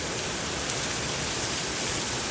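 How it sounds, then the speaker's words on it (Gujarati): Heavy downpour on an afternoon at a temple in Georgia, USA, a dense, even roar of rain with water pouring off the eaves, steady and unbroken, no voices. "બહુ બધો વરસાદ આવે છે"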